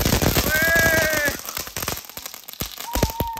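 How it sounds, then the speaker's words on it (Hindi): A chatar patar firecracker from last year's stock sets off a rapid burst of sharp crackling pops, loud and close, with a whistling tone and scattered snaps trailing off afterward. "तो भाई अभी विशाल चला रहा है चटर पटर हो सकता है खराब निकले क्योंकि पिछले साल का भाई ये"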